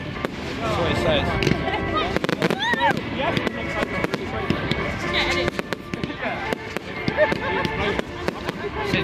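Fireworks at an outdoor display in Guilford, with repeated sharp bangs and crackles in quick irregular bursts and whistling rockets, heard under crowd chatter and talk.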